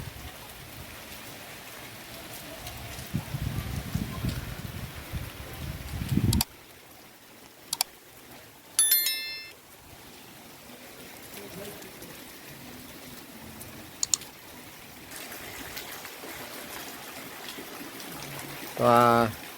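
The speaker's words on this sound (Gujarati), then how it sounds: "વરસાદ ચાલુ છે." Steady rain falls on a village house and surrounding fields during a third straight day of downpour. A dense, loud hiss fills the first six seconds, then eases to a softer wash broken by a few sharp knocks.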